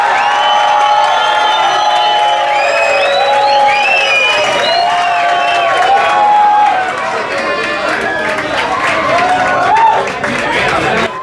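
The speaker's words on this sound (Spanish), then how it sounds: "Aplausos, escándalo, para que nos quede súper claro" A studio audience at a televised talent competition cheers, whoops and applauds loudly and continuously, with excited shouts rising above a steady wash of clapping.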